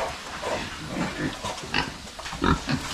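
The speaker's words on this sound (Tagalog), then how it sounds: "Yung mga baboy natin, tatong 4 na buwan mula sa pagpanganak." Pigs about four months old grunt and oink on a rural farm, several close, irregular snorts and squeals coming in quick succession over a low background.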